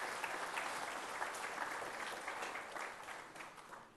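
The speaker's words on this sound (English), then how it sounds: "Ladies and gentlemen, please give the team led by the Chief Minister a big round of applause." An audience at the ICAR 83rd foundation day award ceremony gives the Chief Minister's team a sustained round of applause, steady dense clapping throughout that eases off slightly toward the end.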